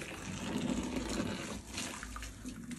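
Boiling water pours from a kettle onto sneakers in a continuous liquid splash and gurgle, steady and close but fairly quiet, with no voices.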